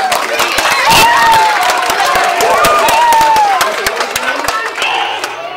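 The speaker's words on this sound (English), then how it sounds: "Let's give them both a big round of applause." A dense crowd at a Shaolin kung fu show roars and claps with cheers over steady applause, loud and close throughout, with scattered whoops rising above the din.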